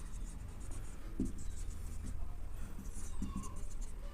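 Chalk or marker writing on a board during a maths lesson, faint short scratchy strokes in a couple of brief bursts over a steady low room hum.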